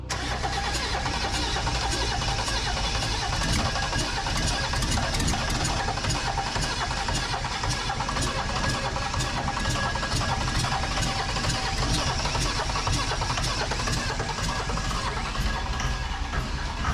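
A Mercedes 300SDL diesel engine, brought back after sitting five years, starts and settles into a steady, clattering idle that stays close and constant throughout.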